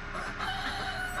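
Chickens cluck and a rooster crows close by, a steady stretch of farmyard fowl noise with no talking.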